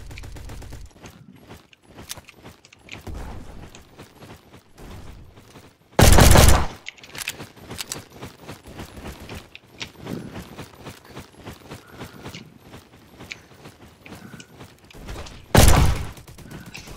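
Pistol fire in a Roblox game: frequent crackling shots amid clattering in-game activity, broken by two very loud close blasts.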